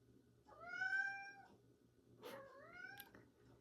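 A house cat meows twice, a drawn-out whining call followed by a second rising, slightly strained meow, close and fairly quiet over a faint background hum.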